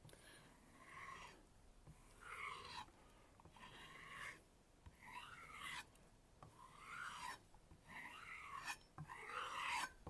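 Hammer Stahl santoku knife drawn across a sharpening stone at a 15-degree edge, a quiet close rasping scrape in about five even back-and-forth strokes with brief pauses between.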